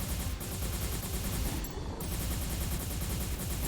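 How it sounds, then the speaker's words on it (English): Rapid, continuous minigun fire in the mech-building game M.A.S.S. Builder, a loud, dense and unbroken stream of shots running the whole length with no talk. "Also, this minigun is great."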